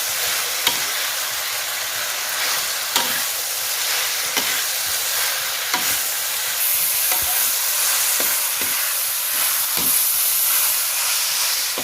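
Crispy-fried dolly fish pieces are stir-fried in a wok over a loud, continuous hiss of sizzling oil, with a spatula clanking against the metal every couple of seconds.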